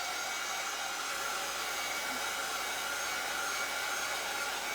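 A heat gun blows hot air over a DIY craft coaster, giving a steady, continuous broadband whoosh that holds at an even level throughout, close by with no voices.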